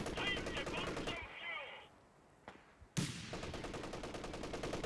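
Machine gun bursts rattle out in a Company of Heroes 3 battle, with dense rapid firing at the start, a quieter gap, then loud renewed automatic fire and voices mixed in the game audio.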